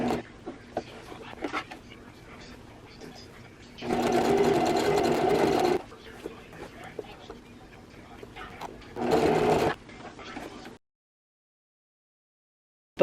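A sewing machine stitches strips of navy fabric onto a dress in two loud, steady bursts of whirring, each a couple of seconds long, separated by quieter handling noise and then silence.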